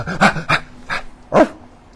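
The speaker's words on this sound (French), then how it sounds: "Le chien aboie." A dog gives four short, close barks or yips in quick succession, loud and clear with nothing else behind them.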